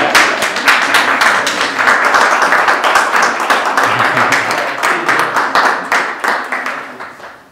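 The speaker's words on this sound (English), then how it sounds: "I just want to applaud you" Audience applause at an artist talk in a gallery: dense, steady clapping from a room full of people, loud and sustained throughout before gradually thinning at the end, with a few voices mixed in.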